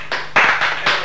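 Studio audience applause on a 1989 Italian television game show, a short burst of clapping in uneven surges, fairly close and loud, with no talk over it.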